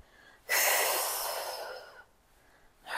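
A loud, close breath drawn in through the nose during a Pilates exercise, one long airy inhale of about a second and a half that fades, followed by quiet and the start of another breath.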